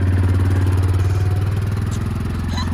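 A motorbike in the hills of Sao Jorge passes nearby, its throbbing low engine strong at first and slowly easing as it moves off.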